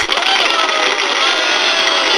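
Canned applause played during a live papercraft workshop stream, a loud, steady wash of clapping and crowd cheering that fills the whole stretch without a break.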